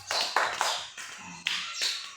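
A group of children at an anganwadi class claps, giving a few quick, close bursts of hand claps with no talking.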